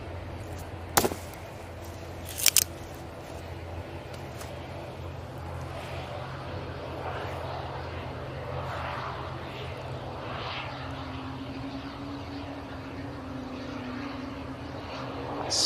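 A Swiss airliner at Manchester airport gives off a steady, fairly distant jet roar that holds for the whole stretch, with two sharp clicks near the start.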